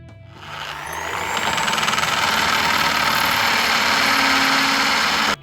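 A power drill bores guide holes into a wall for curtain tie-back hooks, spinning up quickly and then holding a loud, steady whine with grinding and vibration for several seconds before cutting off abruptly.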